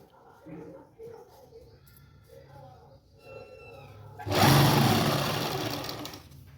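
A sewing machine bursts into a loud, fast run of stitching along a salwar hem in a boutique setting, starting after a few seconds of someone speaking and continuing steadily to the end.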